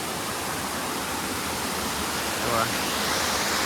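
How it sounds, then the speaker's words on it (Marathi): Usgaon waterfall near Mumbai roars as a loud, steady broadband rush of falling water, close and continuous, with a faint voice over it. "फायनली आपण आलो वॉटरफॉलला दाखवतो तुम्हाला एवढा मोठा आहे कोसगाव वॉटरफॉल"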